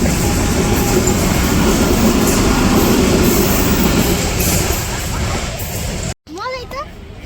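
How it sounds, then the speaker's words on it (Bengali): A train rumbles past close by, a loud continuous roar of wheels and cars that fades near the end. Birds chirp as the noise drops away. "এই যে ট্রেন এসে পড়ছে।"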